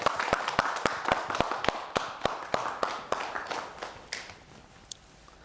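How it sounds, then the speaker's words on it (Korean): Studio audience clapping at a televised lecture on knee health, a brisk burst of sharp, distinct claps that thins out and fades toward the end. "큰 박수 주십시오"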